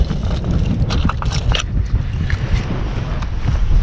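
Wind gusts across a rocky coastline while people forage for abalone, a steady loud rumble of buffeting air against the microphone, with no clear voice in the foreground.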